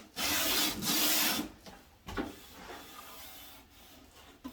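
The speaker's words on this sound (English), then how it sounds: "We're going to make sure that we go through and we sand those edges down." Wooden secretary desk edges being sanded by hand, a loud steady rasping rub for about a second, then shorter, softer strokes and scrapes close up.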